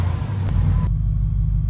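Deep idle rumble from a Jeep Gladiator with a Demon engine swap, headers and valved exhaust with the valves closed, steady and close; a brighter broadband layer cuts out partway, leaving the low drone alone.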